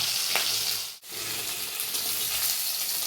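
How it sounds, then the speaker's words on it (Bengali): Fish head pieces frying in oil in a kadai make a continuous crackling sizzle at close range, broken by one short dip near the start and then steady again without any voices. "আমি একটু বড় বড়ই রাখবো আর একটু লাল লাল করে ভেজে নেবো"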